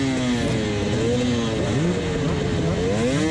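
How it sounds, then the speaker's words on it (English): A dirt bike engine revs repeatedly at the start line of a hard cross-country race in California, loud and close, its pitch swooping up and down in continuous blips with no talk over it. "Getting the jitters out, cleaning out that pipe, revving it out"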